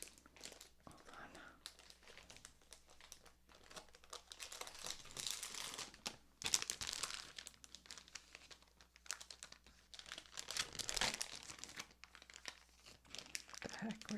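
Plastic comic book bag crinkling during soft-spoken handling of a vintage comic, board and bag, with irregular bursts of crackle and rustle, some louder swells, over a quiet background with occasional soft voice.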